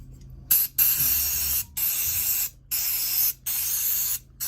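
Brake cleaner sprays in four sharp, loud hissing blasts of about a second each, separated by brief silences, cleaning stripped-down McCulloch chainsaw parts up close.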